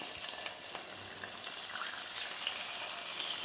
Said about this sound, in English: The oil is lovely and heated. And there's the sizzle.